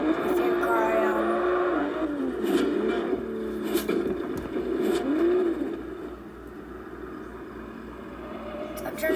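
Toyota Supra engine in Forza Horizon, idling and revving in a rough, pulsing drone with a few rises in pitch, with someone talking over it.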